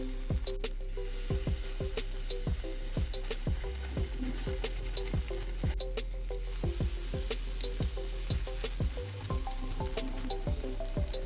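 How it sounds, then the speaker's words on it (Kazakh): Zucchini fritters frying in hot oil in a pan, a constant close sizzle broken by frequent sharp taps and scrapes, with a low background hum throughout. "кәді құймақтарын пісіреміз."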